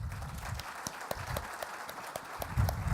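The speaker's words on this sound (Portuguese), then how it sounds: "Peço uma salva de palmas." Audience applause at a panel session of a telecommunications conference: scattered claps at a moderate distance, fairly quiet, swelling slightly toward the end.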